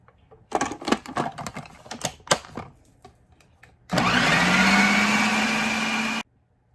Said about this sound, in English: And now I'm just going to put the lid back on and blend it until it's all blended.